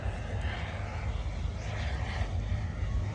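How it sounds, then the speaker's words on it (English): A Hawker Hunter jet aircraft taking off at the Abingdon Air and Country Show flying display, a steady broad roar holding at moderate distance throughout with no change in level, and no voices. "the first of the classic jet models getting into the air in the very distinctive shape of the Hawker Hunter"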